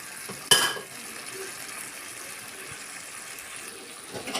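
Tomatoes tipped into a pan of frying chicken wings and onions: one sharp clatter and splash, then a steady soft sizzle that carries on alone and close by.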